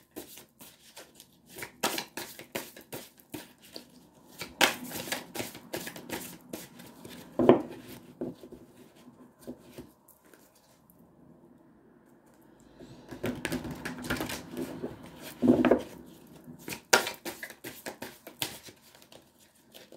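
Oracle cards being shuffled by hand, two separate bursts of soft crisp riffling and flicking clicks with a quiet pause between, fairly faint and close, no talk.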